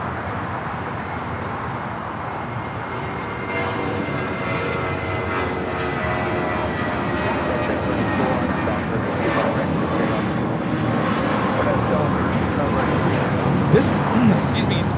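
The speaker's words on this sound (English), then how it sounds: "Spirit Airlines 594 taking off to San Antonio on the A320" Spirit Airlines Airbus A320 jet taking off from LAX, bound for San Antonio: a steady broadband engine roar that swells after a few seconds and holds loud, with traffic noise and someone talking over it.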